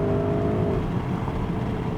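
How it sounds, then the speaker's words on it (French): A Porsche Cayenne Turbo GT pulls under acceleration, a steady close engine drone with a faint breathy turbo whoosh and no talking. "Ouais, c'est un souffle de turbo, tu vois"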